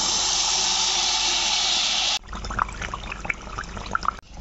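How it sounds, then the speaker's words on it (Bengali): Bengali pakan dough with grated coconut hits hot oil in a loud, dense hiss. Partway through it settles into a softer, crackling bubble-and-pop sizzle. "গরম তেলে দিয়ে দিলাম"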